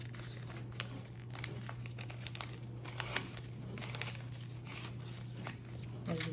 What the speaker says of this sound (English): You see, I'm tearing off the other pieces.